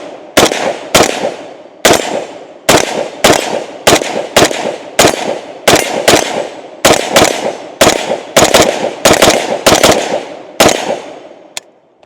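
A Zastava M92 rifle fires about sixteen loud, close shots in a steady semi-automatic rhythm, each crack followed by a short ringing decay, with no talking.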